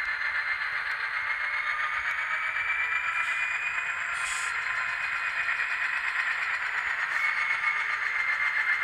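A Union Pacific model train runs on its tracks with a steady, continuous electronic rumble and hum from its sound system, close and even throughout, with a few faint brief chirps and no talking.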